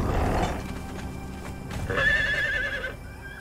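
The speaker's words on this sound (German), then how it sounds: "holen wir unsere Hottehüs" A horse whinnies once in the video game Conan Exiles, a clear wavering neigh in the second half over a steady rumbling game ambience, with no talking.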